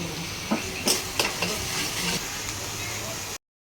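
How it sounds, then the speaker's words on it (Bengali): Onion paste sizzles and fries in a wok, giving a steady close hiss broken by several sharp stirring scrapes and clacks, before cutting off abruptly. "পেঁয়াজ একসঙ্গে পেস্ট করে এখন আমি কড়াইয়ের মধ্যে দিয়ে দেব। এটাকে আমি এখন লাল লাল করে ভেজে নেব।"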